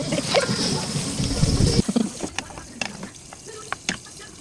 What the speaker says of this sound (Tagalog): gibutangan nako og tubig kay para pang sabaw-sabaw